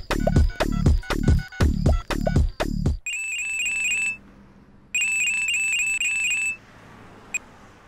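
Telephone ringing after a missed call: two clear bursts of bright electronic ringtone following a run of loud rhythmic thumps, with a brief pause between bursts and a quiet tail.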